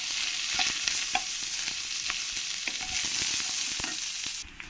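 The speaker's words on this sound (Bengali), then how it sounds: "পেঁয়াজটা দিয়ে ভালো করে একটু লাল লাল করে আমি ভেজে নেব" Chopped onion fries in oil with a continuous close sizzle, punctuated by scraping stirs and light knocks of a spoon against the pan.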